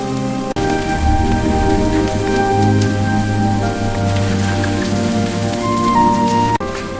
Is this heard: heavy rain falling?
yes